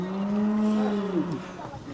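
A 1,000-pound cow at a ranch roping gives a long, close, loud moo that lasts about a second and a half and then falls off, with no talking over it.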